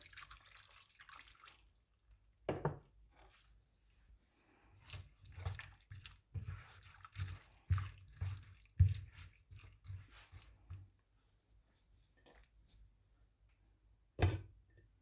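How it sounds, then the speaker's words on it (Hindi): Intermittent splashes and trickles of water being poured into a pot of peas, tomatoes and spices, with soft drips and pauses between pours, fairly quiet and close. "इतना पानी डालेंगे कि मटर हल्की आंच पर गल जाए"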